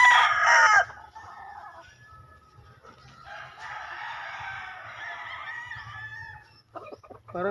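Black chickens cluck loudly up close at the start, then a rooster crows and birds keep clucking quietly over a low background hum, with more close clucking near the end.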